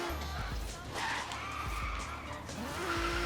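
A Datsun 240Z drifts in Forza Horizon 3 with a continuous loud tire skid and squeal over engine drone, the squeal shifting in pitch as the car slides.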